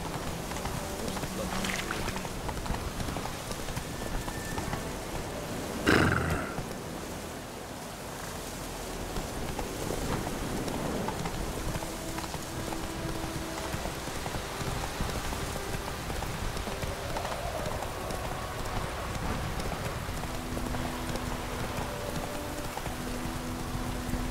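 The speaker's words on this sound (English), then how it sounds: "Let it rain." Steady rain patters on a surface throughout, with one sharp thump partway through and faint background sounds beneath the constant hiss.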